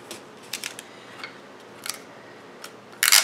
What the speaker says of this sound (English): Cut them in half and use them as seed envelopes.